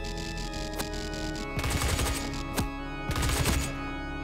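Rapid gunfire bursts in the video game Doom, clusters of sharp repeated shots over a steady game background hum, close and prominent with brief pauses between volleys and no talking.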